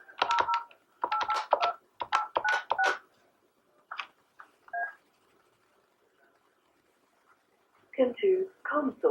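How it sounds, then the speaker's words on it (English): A Yealink IP phone on speakerphone dials a number, giving several quick bursts of touch-tone beeps, then a pause and a few more tones, with a recorded voice starting at the end. "We can actually even dial into the Comsource main number straight away. We'll do that on the speaker"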